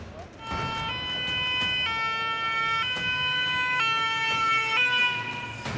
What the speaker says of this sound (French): Là, il y a les pompiers qui arrivent par contre.